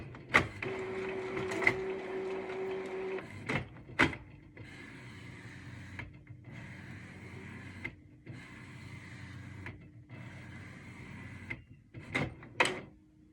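An Epson ET-2720 inkjet printer works through its initial setup, whirring and grinding in repeated motor passes with clicks and clunks between them, close by and uninterrupted by voices.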